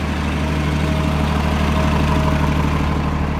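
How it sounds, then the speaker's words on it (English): A bus's L9 diesel engine idles steadily and loudly up close, a low rumbling drone with no pauses and no voices. "the L9 engines, although it's a fairly quiet engine, at idle, it sounds pretty noisy"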